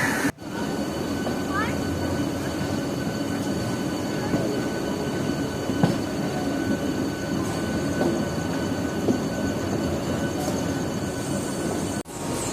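A Howrah–Midnapore fast local train pulls out and runs, heard from on board as a steady, continuous rolling rumble with faint rattles. The noise stays at an even level throughout.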